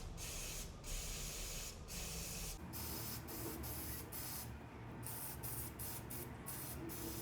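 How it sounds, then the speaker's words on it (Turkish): Brake cleaner sprayed onto the brake pads of a Yamaha Tenere 700 motorcycle, several close hissing bursts of varying length separated by brief gaps. "Balata spray sıkıyorum."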